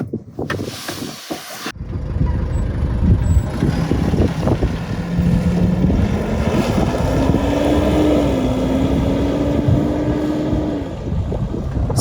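Nissan Navara Pro-4X pickup with a 2.5 litre turbo diesel engine driving, a steady engine drone and rising tone under wind and road noise after a short burst of handling noise at the start.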